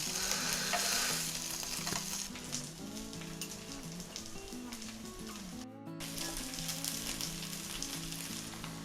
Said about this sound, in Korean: 요즘 스팸이 좀 식어서 스팸을 좀 데우고 있고요. 소리가 좀 크네요.